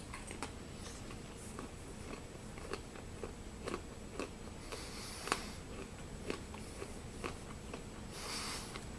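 Chewing on dried fruit (pineapple, papaya, raisins) and peanuts from a British 24-hour ration pack, a close, steady series of soft crunchy bites with no talking.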